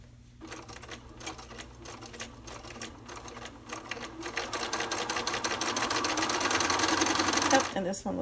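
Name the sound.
sewing machine sewing quilt block pieces together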